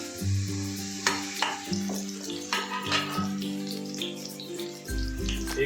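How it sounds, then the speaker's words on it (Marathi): Curry leaves dropped into hot oil while tempering spices for poha chivda: several bursts of loud sputtering sizzle over a steady frying hiss, with clinks of a utensil against the pan, close and without talk. "कढीपत्ता टाकत आहोत"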